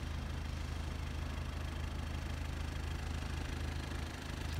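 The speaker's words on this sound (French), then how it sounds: "Son petit moteur, son petit bateau à moteur." Small outboard motor on a fisherman's little motorboat, idling steadily with a low, even chug that holds at the same moderate level throughout, with no voices.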